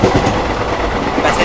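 The Jind Kurukshetra Express rolls past at Kurukshetra Junction, a loud, close rumble of railcars with rhythmic wheel clatter throughout.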